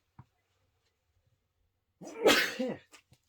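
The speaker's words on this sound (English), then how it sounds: "so I'm going to sneeze" A single sharp sneeze bursts out after a quiet pause, loud and close, followed by a couple of faint clicks.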